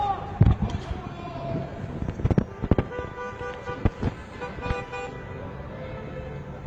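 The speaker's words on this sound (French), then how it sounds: "Shooting again." Sharp, irregular cracks ring out amid an attack in Paris, gunshots heard at some distance among street noise and a car horn, with several loud reports clustered between two and four seconds.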